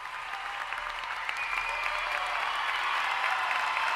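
A group claps in applause, a dense, steady patter of hands that builds slightly in loudness and carries on with no break and no speech over it.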